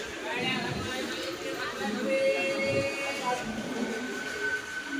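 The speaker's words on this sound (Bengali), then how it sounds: "দেখতেই পাচ্ছ এখন ট্রেন ঢুকে গিয়েছে" A train pulling into a crowded railway station gives a steady rumbling roar with high metallic squeal tones, and background chatter from people on the platform runs underneath.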